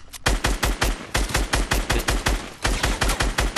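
Loud, close automatic gunfire in Fortnite rattles out in rapid regular bursts of sharp shots, with a brief pause in the middle.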